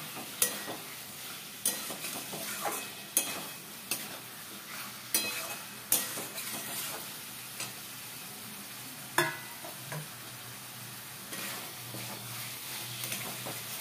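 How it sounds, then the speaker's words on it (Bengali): A spoon scrapes and clinks in a pan at a steady rhythm as pointed gourd curry is stirred into a yogurt spice mix, with a soft sizzle underneath throughout, fairly quiet. "এবার এটাকে একটু ভালো করে দইয়ের মানে মশলার সাথে মিশিয়ে নেব তরকারিগুলোকে।"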